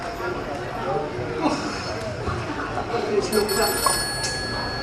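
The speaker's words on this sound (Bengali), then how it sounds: "এত রাত্রে আবার কে ফোন করলো?" An indoor telephone rings late at night, with repeated electronic trills over a busy background and voices talking around it.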